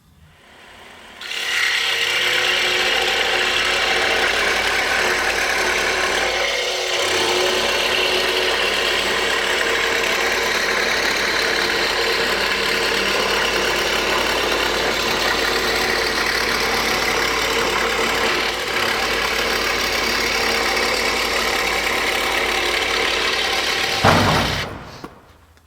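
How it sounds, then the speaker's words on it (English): A scroll saw fitted with a number 7 reverse-tooth blade cuts wood into one-inch strips for a gnome door, giving a steady, loud buzzing drone that runs almost unbroken for over twenty seconds before stopping abruptly. "We have them all cut on the scroll saw."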